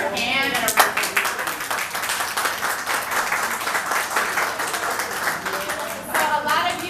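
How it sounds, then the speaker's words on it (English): Steady, dense applause from a crowd fills the whole stretch, loud and continuous, with a brief dip near the end before clapping swells again. "giving her a hand and a round of applause"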